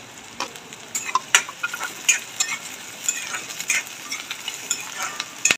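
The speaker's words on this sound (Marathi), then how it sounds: "तेल गरम झालेला आहे, कांदा टाकून घेऊ। हिरव्या मिरच्या पण टाकून घेऊया।" Onion and green chillies sizzle and crackle in hot oil, with steady broadband frying noise and frequent sharp pops and spatters throughout, close and fairly loud, no talk.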